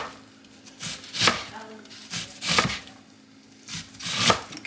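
Onion diced with a knife on a cutting board for broccoli cheddar soup, three separate bursts of quick chopping taps close by, spaced about a second apart with quiet pauses between them.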